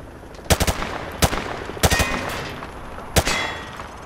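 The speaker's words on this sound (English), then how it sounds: "He sprayed bullets all over the damn place." Automatic gunfire at range targets in Call of Duty: Modern Warfare 2 Campaign Remastered, a video game: several sharp bursts of rapid shots with pauses between, loud and close, with no talk.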